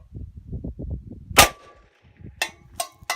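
Three sharp blank shots from a semi-automatic gun aimed at a tin can crack close and loud, each with a ringing metallic tail, spaced about a second apart after a stretch of low rustling handling noise.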